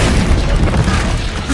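A loud, sustained fiery blast from the Incendio fire spell in the Hogwarts Legacy video game, a continuous roaring boom that fills the whole moment with no pause.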